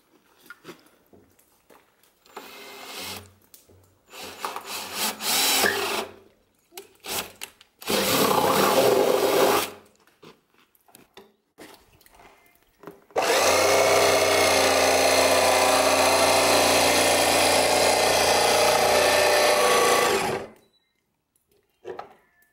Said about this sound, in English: I'm just going to drill a hole in it and use my jigsaw to cut around the outside